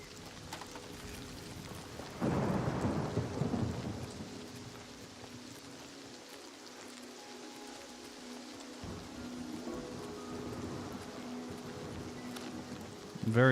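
Steady rain patters throughout in Oblivion Remastered, with a low rolling thunder rumble swelling early and fading away, while a voice speaks faintly underneath.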